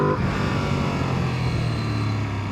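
A Ducati Panigale V2S V-twin engine revs with a steady, throaty rising drone, close and loud, with no voices over it.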